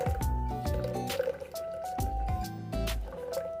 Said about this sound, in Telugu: ఇప్పుడు కూల్ వాటర్ వేసుకుందాం